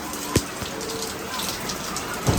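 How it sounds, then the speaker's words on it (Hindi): Heavy rain pours down outdoors in a village, a dense, steady hiss of downpour with scattered louder drips and splashes, and a voice can be heard underneath. "बारिश बड़ी ज़बरदस्त किस्म की तेज़ बारिश चल रही है"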